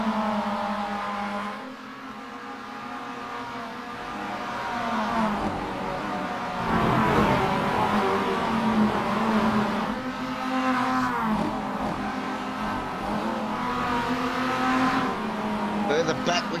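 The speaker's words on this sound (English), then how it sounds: "Further back, we've got cars going every which way." Roadster race cars speed around a circuit, their engines droning and rising and falling continuously as cars accelerate, shift and pass, loud and close throughout, with a commentator talking over the racing.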